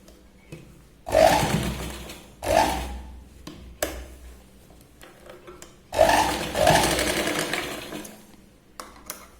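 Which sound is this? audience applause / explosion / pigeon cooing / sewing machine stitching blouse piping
sewing machine stitching blouse piping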